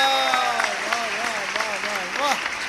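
An audience at a Hindi poetry recital claps in a dense, steady wash of applause while a voice speaks loudly over it in an expressive, sing-song manner.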